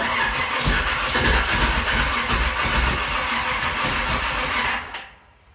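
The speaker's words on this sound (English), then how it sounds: "We're priming the fuel system, checking it for leaks. And we're going to see if it fires up." A third-generation Camaro Z28 being revived with a freshly primed fuel system, its starter cranking in a loud, rapid, pulsing grind for about five seconds before cutting off abruptly, with no talking.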